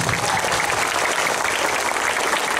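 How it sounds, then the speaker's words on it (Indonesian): Steady, dense applause from an audience at a Maulid Nabi commemoration gathering with a sermon, continuous and fairly loud throughout without pauses. "Tepuk tangan bersama-sama."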